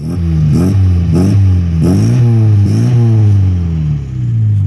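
A 1989 Chevrolet Chevette 1.6 SL engine revs repeatedly, loud and close, rising in pitch with each blip of the throttle and dropping back between, about five rev cycles in a row.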